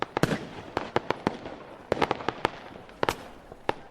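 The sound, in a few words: fireworks sound effect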